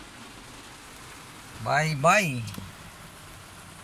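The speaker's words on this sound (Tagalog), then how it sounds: "Tuloy pa rin ang ulan." Rain keeps falling during a typhoon under storm signal no. 8. A low, steady hiss runs throughout, and someone briefly speaks over it in the middle.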